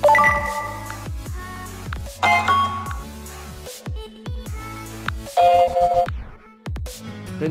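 Notification tones play on a Samsung Galaxy smartphone, a series of loud, bright chiming melodic jingles with short pauses between them and no talking.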